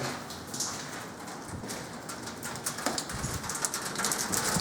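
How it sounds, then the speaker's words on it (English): Rain falling steadily outside an abandoned open prison farm, a soft dense patter with scattered sharper drips that grows a little heavier, with faint bird calls behind it. "Look at that rain, guys."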